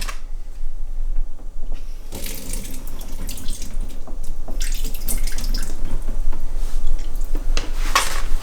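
Water runs from a kitchen tap into a sink or measuring spoon while a vegan meal is prepared, a steady close splashing flow with brief drips and surges, no voices.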